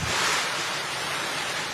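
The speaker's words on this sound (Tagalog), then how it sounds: "Pabugso-bugsong hangin din ang sumabay sa malakas na ulan sa La Union." Gusty wind roars steadily during Typhoon Pepito amid heavy rain in La Union, a loud, continuous broadband rush buffeting the microphone, with no voices.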